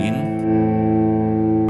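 A sustained clean electric guitar chord from a Kemper Profiler amp modeler rings out steadily with a bright, smooth tone and slight shimmer, fading only slightly before cutting off.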